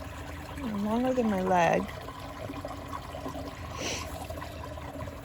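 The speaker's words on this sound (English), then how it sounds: "I love the creek." A creek flows with a steady soft trickle and wash under a man's nearby speech, the water noise running continuously throughout.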